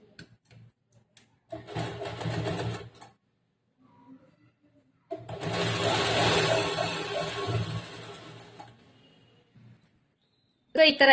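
A sewing machine stitches the edge of a lined blouse in two bursts, a short run and then a longer one, with near silence between them.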